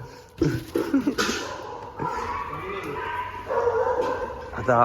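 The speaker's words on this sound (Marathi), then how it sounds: "कुत्र्यांचा आवाज ऐकून" Dogs bark and yip several times close by, mixed with excited talking voices over a steady background rumble.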